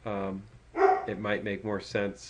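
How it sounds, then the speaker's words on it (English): A dog barks a few times close to the microphone during an online work meeting, the barks mixed in with someone talking. "Sorry about the dog."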